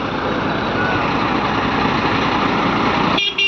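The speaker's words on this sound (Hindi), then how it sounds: "तीनों गाड़ी धीरे धीरे ऐसा पास हो जाएगा" A convoy of three trucks carrying boiler machinery passes slowly, engines idling in a loud, steady rumble close by, with a brief break near the end.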